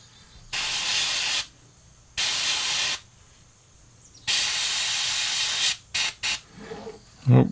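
Airbrush spraying transparent Createx bright red paint onto a fishing lure, heard as three long, steady hissing bursts separated by pauses, then a few short quick puffs, close and loud.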